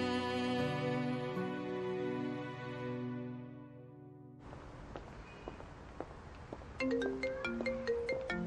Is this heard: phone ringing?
yes